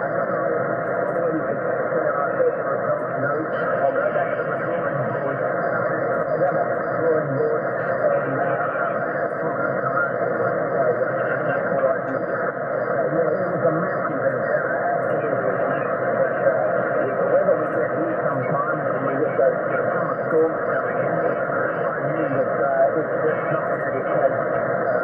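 A ham radio receiver tuned to the 20 meter band gives off a steady, band-limited hiss of static with faint, murky voice-like signals buried in the noise, continuous and unbroken for the whole stretch.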